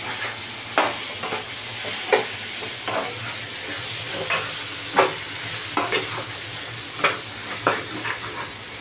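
Steady sizzling and frying of dried fish being stir-fried in a pan, with repeated scraping and stirring clatters every second or so, close up; no talking.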